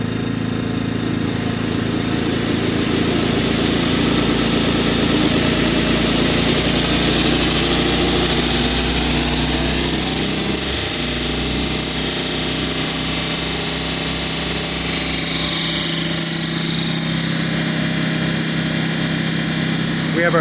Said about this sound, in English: Didn't bog down the generator at all.